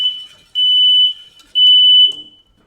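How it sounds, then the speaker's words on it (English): A smoke alarm, set off while making salted caramel sauce, shrieks in loud, piercing high beeps, two long blasts with short gaps between, sounding close by. "Okay, so I just set off the smoke alarm"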